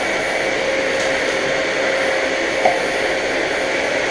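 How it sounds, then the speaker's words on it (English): A vacuum cleaner runs continuously nearby at the start of a cleaning job, a loud steady whooshing drone with a brief small clatter partway through, with no talking. "Don't vacuum up things like that."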